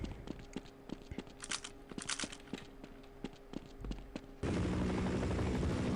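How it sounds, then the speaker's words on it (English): Rapid rhythmic thumping of Marine helicopter rotors in the video game Half-Life mixed with bursts of gunfire, then shifting abruptly into a loud, steady engine roar. "And I hear a chopper."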